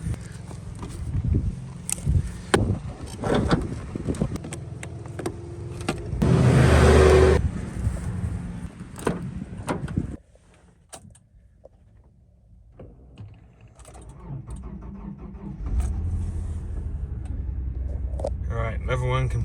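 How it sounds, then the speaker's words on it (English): A car cranks and its engine catches after a jump start with the hood open, a loud surge of engine noise followed by a quieter running idle, with voices and handling noises around it. "we're going to pop the hood, give it a jump, see how she's running"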